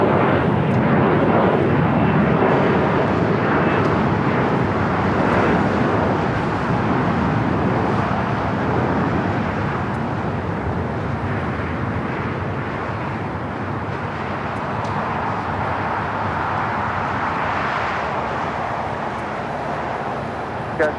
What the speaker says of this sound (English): United Airlines Flight 38, the 787-10 Dreamliner coming from Tokyo Haneda. Our next heavy arrival here on the south side.